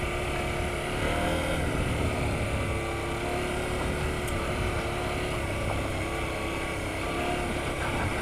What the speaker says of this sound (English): Little bit of wheel spin there, got the back end out in off-road mode